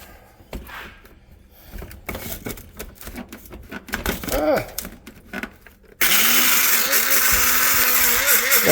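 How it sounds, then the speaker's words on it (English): An old, cheap grinder machine grinds up eggshells, a loud buzzing whir that starts abruptly and runs steadily after a stretch of rattling, clattering handling noises. "what we do with that is we grind up the eggshells"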